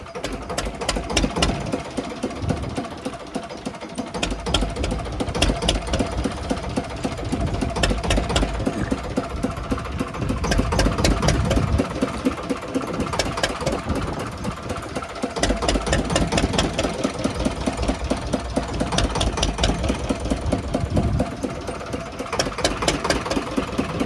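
A fishing boat's engine idles steadily and loudly throughout, a continuous rapid mechanical chugging with no talk over it.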